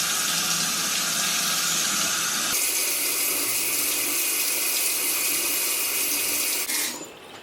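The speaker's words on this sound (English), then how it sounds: "First, let me wash my hands." Tap water runs steadily into a sink during handwashing, a close, continuous splashing rush that shifts slightly in tone partway through and then eases off at the end.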